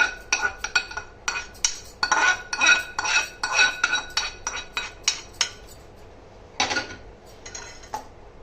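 Mango pulihora being mixed in a metal vessel with a spoon, a series of close, sharp clinks and scrapes in an uneven rhythm with brief pauses, no talk.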